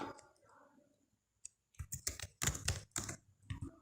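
Quick bursts of keystrokes on a computer keyboard while typing Kotlin code, irregular clicking taps after a brief quiet pause, close and fairly soft.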